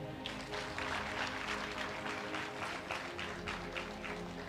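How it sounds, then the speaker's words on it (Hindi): An audience at a Hindi-language church sermon applauds, a dense, steady patter of many hands clapping at moderate distance throughout. "ताली बजाओ।"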